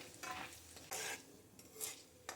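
Ingredients for beetroot rice fry gently in a pan over a low flame, with a soft steady sizzle broken by a few sharp utensil scrapes and stirs, close up.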